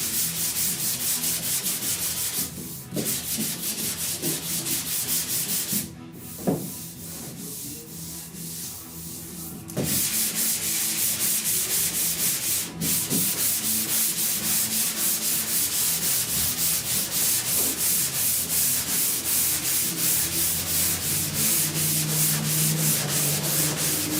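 Primer/surfacer on the rusty roof of a 1969 Chevrolet C10 truck is block sanded: a loud, continuous, close abrasive rasp with steady back-and-forth strokes and one brief pause.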